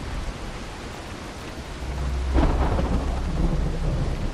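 A night rainstorm in the video game Dying Light: steady rain hiss with a deep rolling thunder rumble building midway and lingering to the end.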